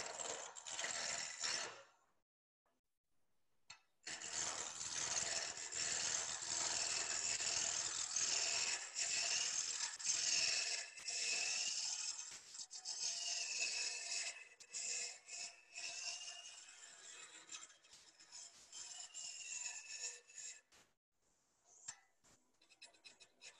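A wood lathe fitted with a chuck spins at about 900 RPM, giving a faint steady whir with light rattling and scratchy mechanical texture that drops out briefly near the start and again near the end.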